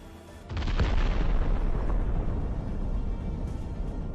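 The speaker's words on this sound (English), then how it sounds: "The explosion is like a volcanic eruption." A sudden deep boom from a drone strike on a Russian tank erupts and rolls into a sustained, loud rumbling roar that fills the rest of the moment, heard from a distance.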